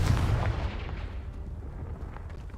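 The explosive Confringo spell cast in the Hogwarts Legacy video game, landing as a heavy, rumbling blast that decays slowly over a couple of seconds.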